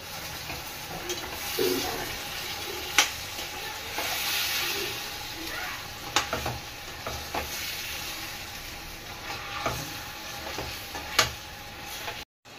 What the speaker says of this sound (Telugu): ఆ మసాలా వేసేసుకుంటున్నాను.